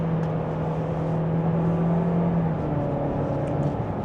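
A Toyota Corolla Flame X-Pack hybrid accelerates quickly, heard from inside as a steady engine drone and whir with a rising tonal hum, moderately loud and continuous.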